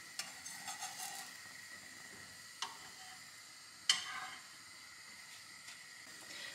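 Soft sizzling of blini batter frying in a pan, a steady quiet hiss broken by a few light scrapes and taps from a utensil.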